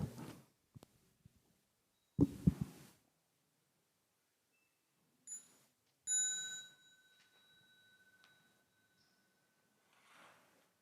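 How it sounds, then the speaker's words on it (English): A small bell rung at a Buddhist holiday retreat gathering to signal the welcome of the Dharma teacher: a few clear, ringing strikes that hang and fade in a quiet hall, with scattered soft thumps and rustles between them. "when you hear the sound of small bell, please stand up to welcome the Dharma teacher"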